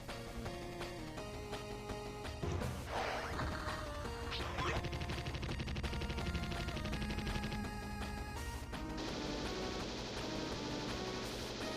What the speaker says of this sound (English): these are giant bullets hitting this guy